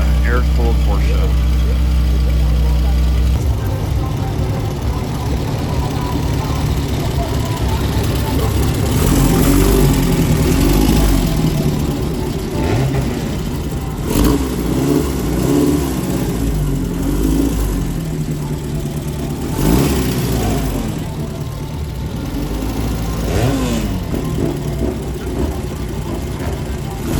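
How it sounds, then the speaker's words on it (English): An air-cooled Porsche engine idles and then revs in several rising bursts, loud and close, while people talk nearby at an outdoor car meet at Sierra College. "Cannot beat the sound of an air-cooled Porsche."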